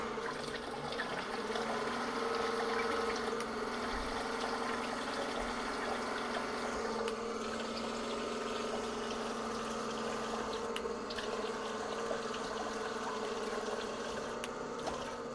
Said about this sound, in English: the pump is going